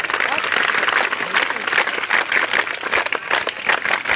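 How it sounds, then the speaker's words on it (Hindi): Schoolchildren clap together on cue at a school celebration, a dense, steady burst of applause lasting several seconds, with voices mixed in. "हम ताली बजाएंगे।"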